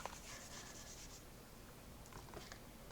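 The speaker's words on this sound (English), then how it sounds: "let me write that out" Pencil scratching across paper while working out math fractions, a steady soft rubbing texture with brief scribbled strokes, close and quiet with no talking.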